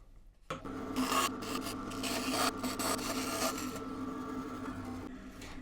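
A wooden part for a yarn winder has its top rounded with a rasp or file, producing steady, close rough scraping strokes that run continuously throughout.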